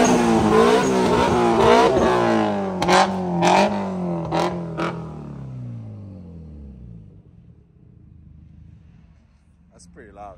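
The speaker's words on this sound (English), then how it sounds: "This guy is gonna rev it." A Nissan Skyline-type car at a Japanese car meet revs its engine hard, a loud roaring rise with several sharp throttle blips, then the engine note falls away to a low idle rumble, with people talking nearby.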